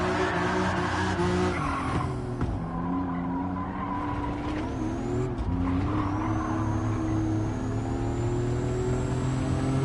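A race car in a racing video game slides and skids around Grand Valley, with sustained tire squeal over a steady engine drone that shifts pitch as the car drifts, loud and close throughout.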